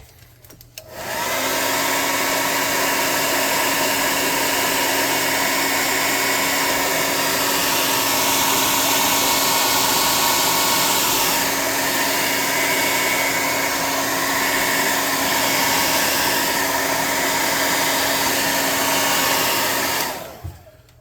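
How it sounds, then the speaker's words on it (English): An air gun blows a steady, loud, hissing jet of air to dry paint on a cardboard model building for a tabletop game, running continuously close up for about twenty seconds before cutting off. "let me hit it with the air gun first"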